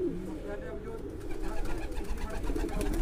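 Pigeons coo close by in low, throaty, repeated calls, with murmured voices in the background.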